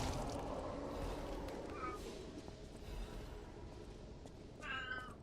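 A cat meows close by in two short bursts, the second one longer, heard over a constant low hum and background noise while someone speaks faintly.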